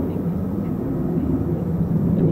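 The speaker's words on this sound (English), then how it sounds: "F-35B still out there." Lockheed F-35B Lightning stealth jet of the RAF flying at a distance, a continuous low rumbling roar that holds steady and fairly loud throughout.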